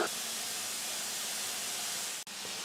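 Hot oil hisses and sizzles steadily as spices are tempered for a chicken fry, a broad even sizzle running throughout with a brief dropout near the end.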